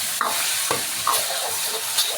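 A spoon stirs a mushroom and fishball mixture with tomato sauce in a sizzling pan, giving several distinct scraping strokes over a soft, steady frying hiss.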